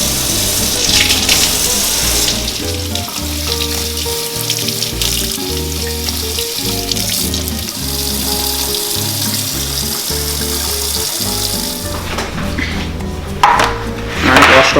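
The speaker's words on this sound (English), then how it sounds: "It's stiff, and you wash it with cold water." Cold tap water runs while salted, stiff cured beef for Armenian basturma is rinsed in a sink, a steady splashing hiss over music, with brief handling noises.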